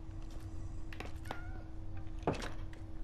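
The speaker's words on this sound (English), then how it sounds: "Oh, poor cat, get over here." A Minecraft cat meows a few times in short, clear calls over a steady background hum, with a soft thunk in between.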